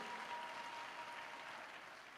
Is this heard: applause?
yes